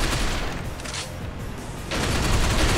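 Gunfire in the video game Binary Domain, a dense, continuous fusillade of rapid shots that dips briefly in the middle before surging back loud.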